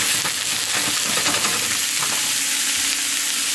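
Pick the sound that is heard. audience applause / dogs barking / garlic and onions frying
garlic and onions frying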